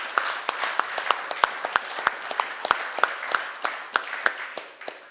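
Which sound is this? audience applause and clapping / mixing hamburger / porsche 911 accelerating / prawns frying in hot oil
audience applause and clapping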